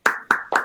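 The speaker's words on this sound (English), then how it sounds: "I'm over here clapping on Facebook as well" Three sharp hand claps in quick succession, close and crisp, each with a short decaying tail.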